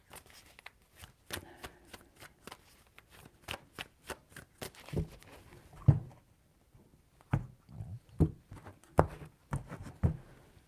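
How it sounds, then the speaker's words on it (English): Tarot cards shuffled by hand in three bouts, crisp riffling bursts and soft slaps in an uneven rhythm, close and fairly quiet with pauses between. "3 shuffles."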